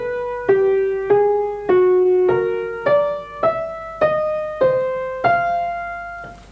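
A twelve-tone row played on piano, a run of single struck notes in a steady, even pulse, each ringing briefly before the next, close and clear with no other sounds.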